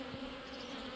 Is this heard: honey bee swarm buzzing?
yes